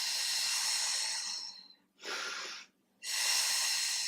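Three close, breathy airflow bursts during a Pilates corkscrew exercise on a mat, a long hiss, a short one and a long one with brief gaps between them.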